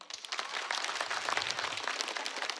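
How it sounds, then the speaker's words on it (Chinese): Audience applause fills a stand-up comedy show crowd, a dense, steady wash of many hands clapping close and loud throughout, with no talk over it. "鼓鼓掌，我听一下，有没有？"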